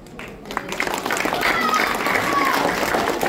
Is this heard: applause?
yes